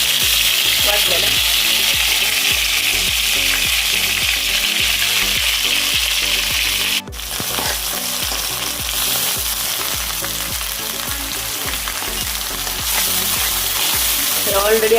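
Ground masala paste frying in two to three ladles of hot oil for misal pav, a loud, steady sizzle running throughout with repeated rhythmic stirring and scraping, briefly dipping midway before picking back up.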